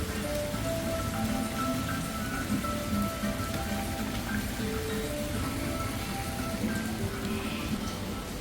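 Heavy rain falls steadily at a hotel in Pattaya, a dense continuous patter on surfaces with faint tonal background sounds beneath and no talk.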